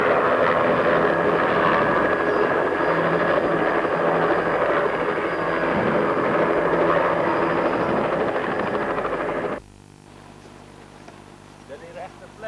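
Helicopter arriving, a loud continuous rotor-and-engine roar that holds steady for about nine seconds, then cuts off sharply to leave quiet background with faint small noises.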